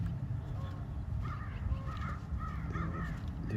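Several crows caw in a series of short, repeated calls over steady low traffic and outdoor rumble, with faint voices in the background.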